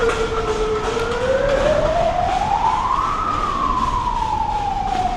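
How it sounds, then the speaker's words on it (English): A single wailing siren played by street protesters rises slowly and falls again in a long sweep, echoing off a nearby building over a steady wash of city noise, loud and continuous with no talk. "they've been playing these sirens endlessly."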